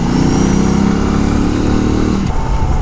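A Euro Motor Rapido 110 motorcycle engine revs up as it accelerates to overtake, a loud, close, buzzing mid-pitched drone with rushing wind, steady throughout and then easing slightly near the end.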